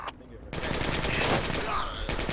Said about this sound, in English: That's pretty close fire, actually. Isn't that infantry shooting at you guys?